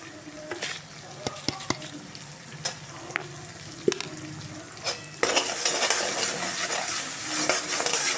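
Mustard seeds fry and are stirred in a pan; a quiet sizzle carries sharp clicks and scrapes of a utensil against the metal, then water hits the hot pan and the sizzle surges to a loud, steady hiss for the last few seconds.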